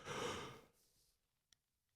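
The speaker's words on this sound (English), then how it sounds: "That was really rude, yawning in the microphone" A big, loud yawn close to the microphone, a long breathy exhale that fades into a softer tail, then a brief click.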